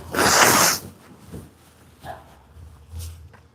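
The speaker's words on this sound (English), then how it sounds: "I gotta blow my nose" A person blows their nose hard during a livestream from a home garage, one loud, forceful burst followed by a few quieter snorts and sniffs.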